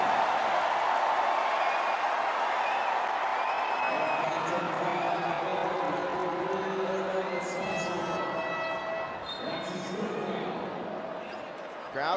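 Arena crowd at an MPBL basketball game, Sarangani versus Marikina, roaring steadily throughout, with a commentator talking over the noise and a few whistle-like tones near the end.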